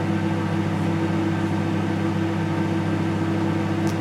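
A microwave oven heats a glass of Pepsi with a steady, close, even hum and no talk, holding the same level throughout.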